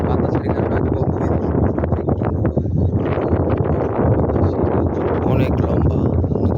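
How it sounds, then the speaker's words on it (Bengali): Strong, cold wind blows across the open bank of a long, full river in the early morning, a loud continuous buffeting roar against the microphone. "প্রচন্ড বাতাস, বাতাসে একবারে শীত শীত লাগছে"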